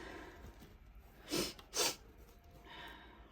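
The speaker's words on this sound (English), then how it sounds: "Excuse my sniffles." Two short, sharp sniffles in quick succession, close to the mic, followed by a softer breath against quiet background noise.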